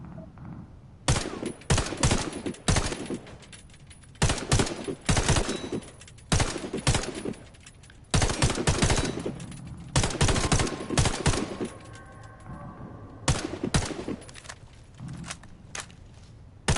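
Video game gunfire in loud automatic bursts of about a second each, separated by short pauses, with quieter background sounds between the bursts.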